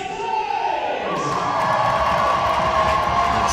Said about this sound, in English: Sizable crowd here.